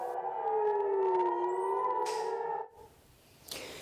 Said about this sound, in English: as air raid sirens ring out again